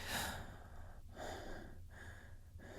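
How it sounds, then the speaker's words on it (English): Short, shallow breaths demonstrated by a single voice: a soft rushing breath sound repeating roughly every second in a quick, steady rhythm, close and fairly faint, with no talking. "if you have a very shallow breath, you're breathing very shallowly."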